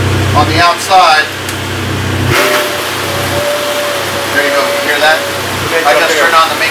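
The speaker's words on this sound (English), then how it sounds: "I just turned on the makeup air and the exhaust fans" Makeup air and exhaust fans on a food trailer run off an 11 kW Kubota diesel generator, a steady low hum with a faint whine under people talking.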